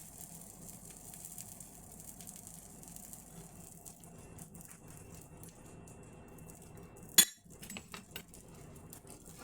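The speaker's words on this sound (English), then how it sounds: "apologize for scraping noises" A spatula scrapes and clinks against a pan while chicken quesadillas cook, with faint rattling throughout and one sharp metallic clank near the end.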